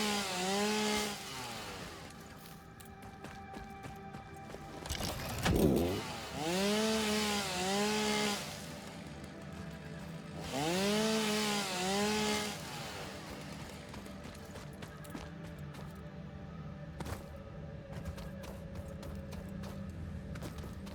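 A chainsaw revs and cuts wood in the factory-building game Satisfactory, with two sustained rising-and-falling whines and a sharp burst between them, set against a steady mechanical hum.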